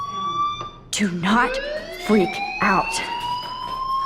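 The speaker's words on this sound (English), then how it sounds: "do you hear that fire alarm? That means you should be outside." A fire alarm rings in the 2015 PC game Life Is Strange, sounding as a steady electronic tone that continues under a person talking.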